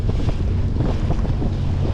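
An old jet ski, about twenty years old, idles out on choppy water, a steady low rumble blended with waves and heavy wind buffeting the microphone, with no voices.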